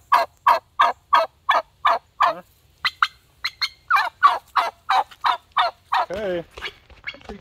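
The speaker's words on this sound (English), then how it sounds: "That's a female turkey. That's a hen." Wild turkey hen calling in a run of about fifteen sharp, evenly spaced yelps, fairly close and clear outdoors, with a rougher raspy burst near the end.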